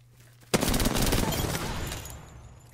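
Rapid automatic gunfire in the Apex Legends video game bursts out suddenly after a quiet moment, a dense loud volley that trails off over a couple of seconds.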